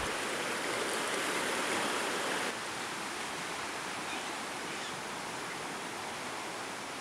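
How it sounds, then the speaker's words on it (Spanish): The Puyo river in Ecuador runs as a steady, broadband rush of water near an indigenous community's riverside cabins at dawn, continuous and fairly loud with a slight drop in level partway through, no voices. "Justo aquí está el río Puyo."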